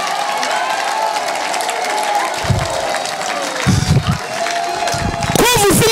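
A church congregation bursts into brief rounds of applause during a sermon, the clapping rising twice over a sustained tonal background and a speaking voice.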